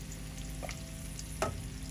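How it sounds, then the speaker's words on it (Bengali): Food frying in hot oil on a home stove, a steady close sizzle with a few soft stirring clinks, no voices. "এখন তেলের মধ্যে দেওয়া হইবে"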